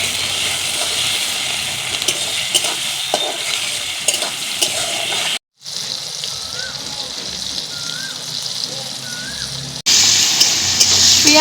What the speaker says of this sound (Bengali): এবার নেড়ে চেড়ে ভালো করে ভেজে নেব।